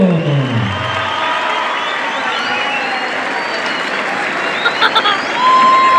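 A crowd at a bull riding tournament at a town fair in San Miguel Ajusco applauds and cheers loudly and steadily, with an announcer's voice and music trailing off at the start.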